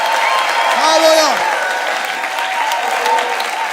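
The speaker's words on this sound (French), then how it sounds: "Applaudissez le Seigneur." A church congregation claps in praise, a loud sustained wash of applause with a voice calling out over it and a short rising sung or shouted phrase partway through.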